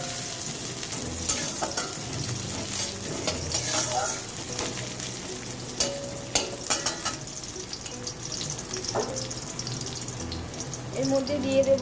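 Sliced onion is tossed into a hot pan for chow mein and stir-fried, with a steady sizzle beneath repeated scraping and clattering of a spatula against the pan, close and fairly loud, with occasional clinks.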